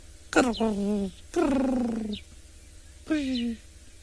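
A voice mimics the call of a Burchell's starling during a live safari broadcast, giving three nasal, warbling phrases with short pauses between them, each sliding downward, close and fairly loud.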